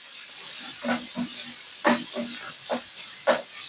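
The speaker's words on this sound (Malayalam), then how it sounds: "ഈ വെളിച്ചെണ്ണയില് ഒന്ന് ഇഞ്ചി നന്നായിട്ട് മൂപ്പിച്ചെടുക്കണം" Ginger fries in coconut oil for Kerala puli inchi with a soft, continuous hiss, broken by a handful of brief louder pops and bursts.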